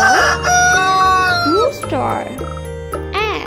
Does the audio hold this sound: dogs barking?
no